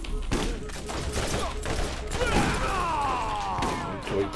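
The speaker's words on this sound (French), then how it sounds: "Tourelle qui sert à rien du tout." An enemy turret in the video game Borderlands fires a rapid, dense burst of gunfire that mixes with clanks and thuds of game combat. It stays loud and continuous throughout and is heard alone.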